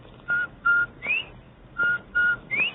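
A person whistles an imitation of a bobwhite quail call, a clear, close series of short bright notes, some ending with a rising upward slide, in a quiet setting.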